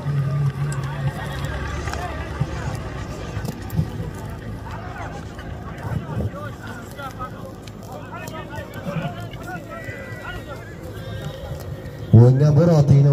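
Horses thunder about during a kokpar horseback game, hooves drumming steadily with an occasional whinny, under a crowd and an announcer talking loudly throughout.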